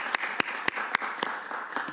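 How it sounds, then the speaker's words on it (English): A few people at a human rights commission meeting clap sparsely, distinct sharp claps spaced roughly every quarter second, fairly quiet and close. "So I would like to give a round of applause."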